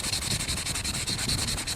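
Someone steadily sands the flesh side of a brain-tanned buckskin, roughing it up with a dry, rhythmic rubbing scratch. The back-and-forth strokes are close and even, and no one speaks.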